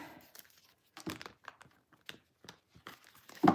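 Tarot cards being shuffled by hand, a run of soft papery riffles and flicks in uneven bursts, close and fairly quiet, with a louder crinkling rustle at the end and no talk.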